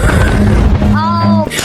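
Bomb blast in the video game Animal Company, a heavy booming rumble at close range overlapped by a voice and tonal game sounds.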